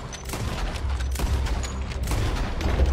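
Video game gunfire from Red Dead Redemption 2: a rapid string of sharp shots and bursts over a low rumble, fairly close and continuous for a few seconds.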